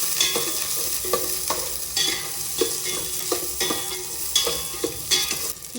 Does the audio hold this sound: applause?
no